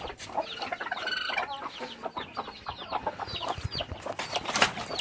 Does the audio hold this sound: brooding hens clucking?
yes